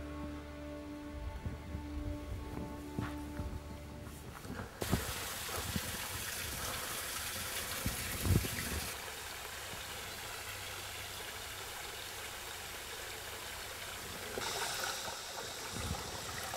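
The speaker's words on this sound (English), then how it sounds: "The energy of flow patterns in water" Water flows in a small stream at a steady, moderate level, with a low engine-like hum and a few abrupt shifts in the background texture, and no voices.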